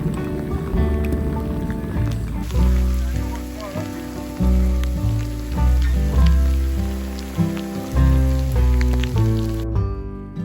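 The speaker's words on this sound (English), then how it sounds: "the thunderstorms that we had been dodging all afternoon, well, they caught up with us" Steady, dense rain from a thunderstorm pours down on a mountain trail along the Uinta Highline in Utah, a constant close patter mixed with background music.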